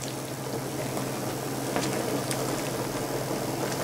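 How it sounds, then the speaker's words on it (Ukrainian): Zucchini lecho with sweet pepper bubbling in a pot on the stove, a steady low simmering hiss with faint pops throughout, no talking. "Перемішуємо і залишаємо ще покипіть хвилин на 10."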